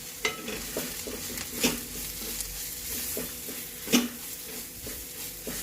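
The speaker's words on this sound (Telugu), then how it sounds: "ఒకసారి ఇవన్నీ బాగా కలిపి మసాలాలన్నీ వేగనిద్దాం" Ground spices with turmeric, chili and roasted coriander-cumin powder fry in a pan for a rajma curry, a soft continuous sizzle punctuated by a few distinct knocks and scrapes of a stirring spoon.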